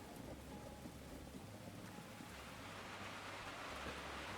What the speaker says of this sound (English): it is loud because of the rain falling on the thing there